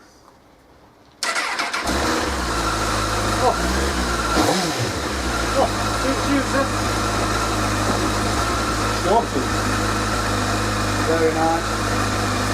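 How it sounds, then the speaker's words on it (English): A stock Honda CBF1000 motorcycle with stock pipes, in neutral inside a wooden shed, starts abruptly after a moment of quiet and settles into a steady, close idle, with people briefly talking over it. "I think you should let them know how the stock bike sounds"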